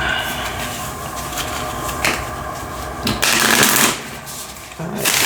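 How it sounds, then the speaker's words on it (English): Cards are riffled and shuffled in several quick bursts, crisp and close, with brief pauses between. "I try to shuffle on camera"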